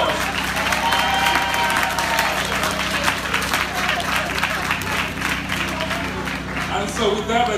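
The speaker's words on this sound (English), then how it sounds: "So please give them a round of applause." At a public event with the Philadelphia Housing Authority and T-Mobile, an audience applauds warmly, dense continuous clapping from a large crowd that holds steady throughout, with a low hum and a few voices mixed underneath.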